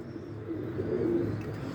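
Pigeons bred at home coo softly and steadily at close range, low throaty calls rolling on without voices over them.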